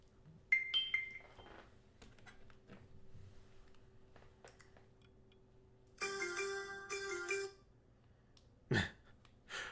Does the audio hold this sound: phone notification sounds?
yes